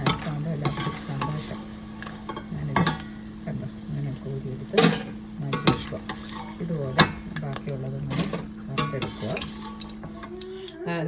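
Diamond cuts snacks made from maida dough frying in oil on a medium flame, with a continuous sizzle broken by repeated stirring scrapes and clinks of a utensil against the pan.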